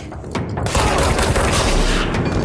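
Dense, sustained gunfire booms and crackles loudly and continuously in the video game Control, with no break in the shooting.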